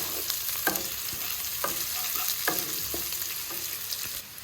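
Chopped onion fries with chola greens in a pan and is stirred, giving a steady soft sizzle broken by periodic scraping strokes of the spoon, close by and unaccompanied by speech.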